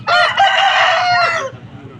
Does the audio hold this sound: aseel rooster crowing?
yes